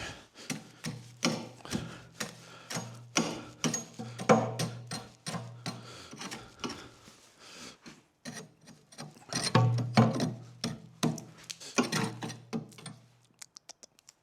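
A ratchet wrench clicks in repeated rapid bursts while bolts are tightened on snowplow edge tamers for a John Deere 1025R tractor, with short pauses between strokes and a few metallic taps at the end.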